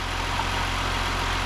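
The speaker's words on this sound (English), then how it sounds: "start the engine up, let it warm up to operating temperatures" A Ford Five Hundred car engine idles steadily after being started, warming toward operating temperature; a constant low rumble with a faint hum runs unbroken and fairly close throughout.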